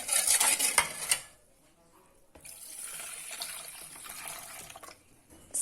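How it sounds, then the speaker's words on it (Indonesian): Agar-agar being stirred with thin coconut milk in a pot for cendol pudding, with close clinks and scrapes of the utensil against the pot, a louder burst at the start then steadier stirring, no talk. "Lalu ini kita masukkan santan cairnya sedikit dulu. Ini kita aduk ya."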